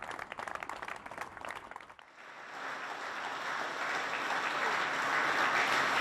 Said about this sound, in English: There's applause here from the staff of Network Rail, British Transport Police, train operators, cleaning and security staff